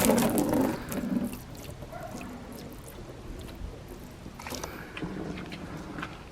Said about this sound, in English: So flooding the top portion of the hood, it is sheeting off